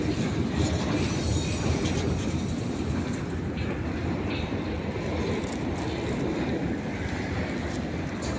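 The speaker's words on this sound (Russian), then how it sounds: "Пустые вагоны." Train with empty railroad cars rolling past at Chapayevsk station, a continuous loud rumble of wheels on track with faint squeals, steady throughout and close by.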